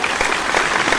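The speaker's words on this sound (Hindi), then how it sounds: "अच्छा लगा हो तो जोरदार तालियां एक बार आप सबकी हो जाए" Loud, dense clapping from an audience at a Hindi poetry gathering, a thick continuous wash of many hands filling the brief moment without pause.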